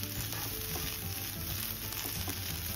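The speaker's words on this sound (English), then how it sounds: "Let's stir and cook for another 1 more minute." Chickpeas in sauce sizzling and frying steadily in a pan while being stirred, a continuous close crackle with faint scraping, no talking.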